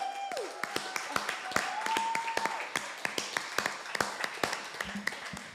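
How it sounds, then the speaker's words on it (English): Scattered applause as a performer is welcomed to the stage at an open mic night in a coffeehouse, individual claps distinct rather than dense, running steadily under a voice speaking over them. "we have to give them a very special round of applause"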